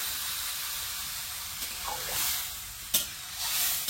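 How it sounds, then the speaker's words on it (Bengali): Raw banana curry frying in a pan as water is poured in, a steady hiss swelling into bursts of sizzling and steam with a few sharp stirring clinks, close and fairly loud with no talk. "এবার জল দিয়ে দেবো।"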